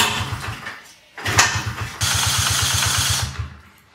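A Honda CRF50F dirt bike engine cranks over with the choke and fuel on, giving rapid rhythmic chugging in three bursts that never catch, with short pauses between attempts. The sound is close and fairly loud, and nobody speaks.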